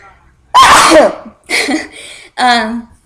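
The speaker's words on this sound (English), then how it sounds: "I have to sneeze" A person lets out a loud, close sneeze, followed by two shorter vocal sounds like a sniff and a groan.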